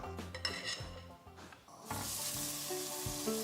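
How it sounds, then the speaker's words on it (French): Lamb chops laid into a very hot grill pan: a few clinks and scrapes of metal, then a sudden loud, broad sizzle that holds steady and close for the rest of the moment. "Dans une poêle grill bien chaude, on vient déposer nos côtes d'agneau."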